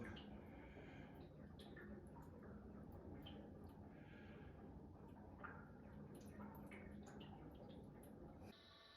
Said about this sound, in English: Water is filling.